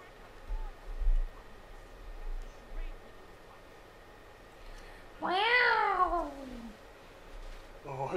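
A cat meows once in a drawn-out, rising-and-falling cry during a let's play of the video game Young Justice: Legacy, loud and close over faint background game sound.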